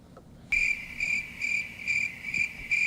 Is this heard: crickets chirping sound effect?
yes